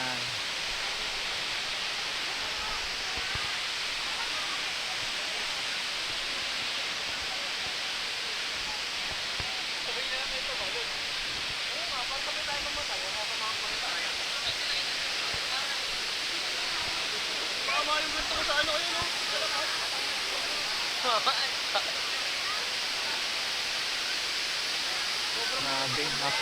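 Rushing water from a waterfall at Daranak or Batlag Falls in Tanay, Rizal, heard close up as a steady, even hiss that holds for the whole stretch, with faint voices in the background near the end.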